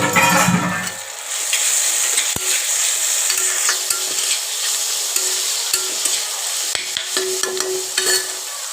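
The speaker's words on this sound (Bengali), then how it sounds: "এবার একসাথে একটু ভেজে নেব। এবার চিকেনের কিমাটা ওগুলো দিয়ে দেবো।" Chicken mince with spices sizzles and fries in a pan for a Bengali potol chicken pulao filling, with steady close crackling and a few sharp clinks of a spoon stirring, no voices.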